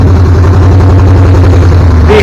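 A 1978 Camaro Z28 with a rusting header idles loudly, a deep pulsing exhaust rumble that stays close and steady, with a brief rise at the very end.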